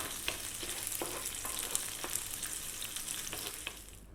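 Safi fish frying in a pan with sauce, giving a dense, continuous sizzle close by, with occasional sharper crackles and light stirring scrapes, fading slightly at the end.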